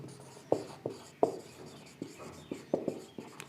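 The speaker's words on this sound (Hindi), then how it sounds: "चलो रिप्रोडक्शन लिखते हैं।" Pen writing notes on a board or paper during a biology lecture, close scratchy strokes and taps in an uneven rhythm of about eight marks, with no talking.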